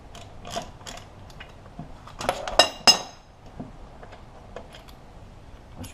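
Lug nuts coming off a car wheel during a flat tire change, a scattering of metallic clinks, ratcheting ticks and a couple of sharper clanks up close, with quiet gaps between.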